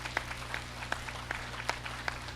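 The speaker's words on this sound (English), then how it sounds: "give our senior team a nice round of applause" A crowd at a county dairy show gives a faint, distant round of applause for the senior dairy judging team. Scattered individual claps ring out over a soft, steady wash of clapping and low background hum.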